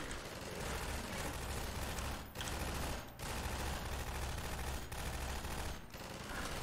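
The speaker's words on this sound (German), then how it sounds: "Hier ist Selbstschussanlagen, die auf Zombies schießen." Automatic turrets in Half-Life 2 fire at zombies in long, dense bursts of rapid gunfire with brief gaps around two, three, five and six seconds; the shooting is loud and continuous and no one speaks.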